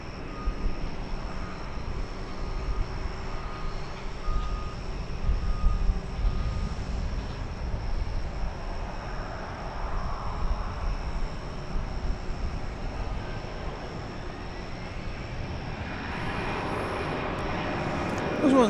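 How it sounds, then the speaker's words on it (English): American Airlines jet on a long, slow takeoff roll from DFW bound for Kansas City, a steady distant engine roar and rumble building gradually, with a person talking faintly at times. "It was one of those longish, kind of slow takeoffs. That was American Flight 2569 to Kansas City."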